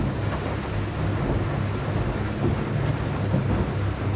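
A Whittley aluminium boat's outboard motor runs at about 4,300 revs across open water, a dense, loud, continuous roar of engine and rushing wind and water with no pauses.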